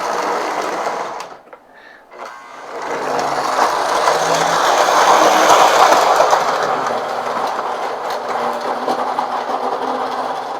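A used Lionel toy train with four-wheel drive and a broken pilot runs along its track, a close whirring motor hum with rapid clickety-clack that briefly drops away, then returns and holds steady.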